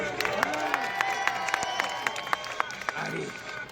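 Outdoor crowd at the Finistair 2019 stunt show claps and cheers, with sharp, distinct handclaps popping over a steady roar, while a loud announcer's voice talks over the applause.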